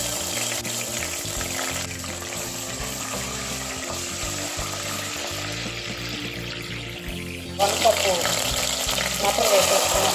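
Ginger garlic paste frying in oil in a pan, a steady sizzling hiss that turns brighter and louder with crackling near the end.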